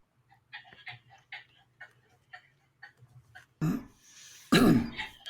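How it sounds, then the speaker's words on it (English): A woman coughs indoors, a few sharp, fairly loud coughs near the end after a stretch of faint, irregular ticking and soft sounds. "Was she that coughing there?"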